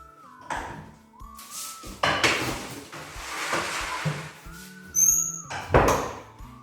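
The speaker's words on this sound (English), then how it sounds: "Now I'm going to get them into the oven." Clattering and thunking as a baking tray of Cornish steak pasties is slid into an oven, with oven door and rack knocks in irregular bursts, close and moderately loud, no talking.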